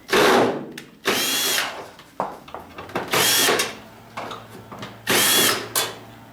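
A cordless drill whines in several loud bursts while unscrewing a flat panel TV being scrapped for metal, with ratcheting clicks and short pauses between each run.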